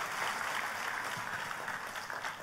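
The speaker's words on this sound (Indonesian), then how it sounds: "tepuk tangannya pula yang paling meriah buat Tuhan kita." A congregation applauds during a Christmas church service, a dense, even wash of clapping that holds steady throughout with no voices over it.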